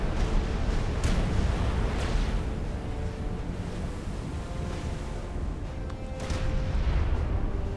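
Battleships in the strategy game Supreme Commander fire artillery amid a steady, dense roar, with a few dull booms rising out of the continuous rumble.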